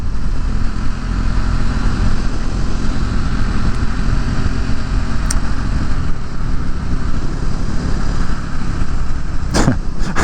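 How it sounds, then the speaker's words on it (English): A motorcycle being ridden, with steady broadband engine and wind roar that stays loud and continuous throughout, plus a couple of brief sharp clicks near the end and no talking. "So it can't get better than riding this bike right now."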